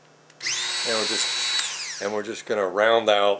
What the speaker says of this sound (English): I'll switch to a sanding drum on the Dremel and smooth it out.